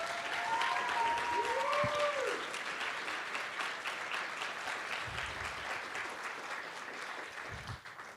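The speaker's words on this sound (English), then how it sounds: "Let's give them a big round of applause." A live audience at the Women in Games 2024 event gives sustained, even applause that tapers off toward the end, with a brief voice rising over the clapping early on.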